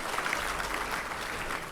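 Audience applause at a health ministry event in Delhi, a steady dense patter of many hands clapping, moderately loud and continuous with no voices over it.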